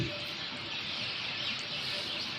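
A large crowd of birds calls at a bird sanctuary, forming a dense, continuous wash of chirps and tweets that blend into a steady outdoor chorus with no single call standing out.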